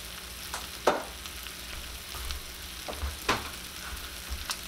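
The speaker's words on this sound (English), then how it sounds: "My skillet's getting kind of dry, so I'm going to add 2 more tablespoons of butter to it" Butter sizzling in a skillet with quail marsala: a steady low frying hiss punctuated by several sharp crackles and pops, close and fairly quiet, with no voices.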